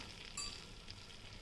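Ginger garlic paste and dried red chilli sizzle in hot fat, a faint steady frying hiss with no voices.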